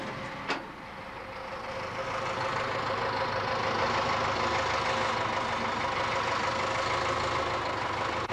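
A steady Ford tractor engine runs at low revs throughout, a continuous even drone with a brief click near the start.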